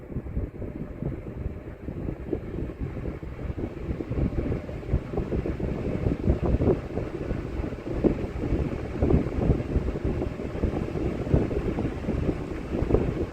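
A vintage Koldaire Kemco Industries No. 3 electric fan runs close by, giving a steady, soft whooshing rush of moving air with a low, even hum and no other sounds.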